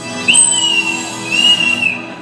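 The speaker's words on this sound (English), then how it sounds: "the fearsome robber whistles" A whistle blown during a staged theatrical skit as the fearsome robber's cue, two sustained shrill blasts over a noisy room murmur.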